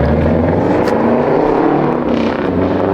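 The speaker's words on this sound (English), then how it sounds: "I hear a straight pipe Subaru." Loud, close engine roar from a straight-piped Subaru STI, revving with a rough, crackling breakup that continues steadily and is heard alone.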